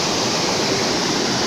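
Wli waterfall in Ghana rushes in a loud, dense, steady roar of falling water, close and constant with no breaks.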